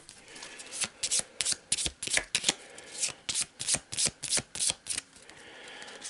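Loot cards for the Shadows of Brimstone board game riffled and shuffled by hand up close, a quick run of sharp, rhythmic card bursts repeating for several seconds with no talking.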